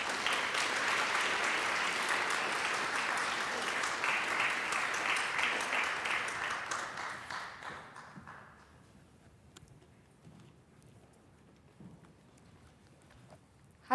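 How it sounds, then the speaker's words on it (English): A TEDx Eastchester audience welcomes a speaker with a broad, steady wash of applause that holds for about eight seconds, then fades into near silence with a few stray claps. "Please welcome her with a big round of applause."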